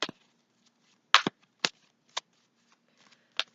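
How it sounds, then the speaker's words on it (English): A deck of tarot cards is shuffled by hand, close and quiet, in about six short riffling bursts separated by brief pauses against near silence. "so we're going to start shuffling here."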